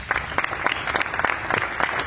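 A crowd applauds during a political speech: dense, steady clapping from many hands that fills the whole moment, loud and close, with no voice over it.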